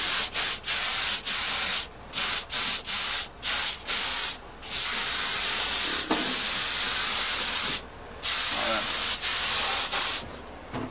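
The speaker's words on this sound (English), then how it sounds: "I've had enough of the spray." A spray gun hisses in repeated bursts, laying a cellulose tobacco burst finish on a Firebird-style guitar, with the loud steady spray broken by short pauses across the stretch.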